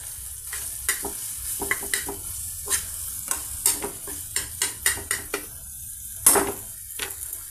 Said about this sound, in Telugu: ఈ విధంగా ఫ్రై అవుతున్నాయండి.